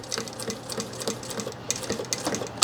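A sewing machine stitches a label onto a simple drop-liner backpack near a strap, a fast, even needle clatter running close and continuous throughout.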